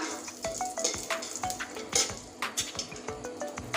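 Dry red chili fries in hot oil for a tomato chutney, a light sizzle mixed with rhythmic clinks and scrapes of a utensil stirring in the pan, no one speaking.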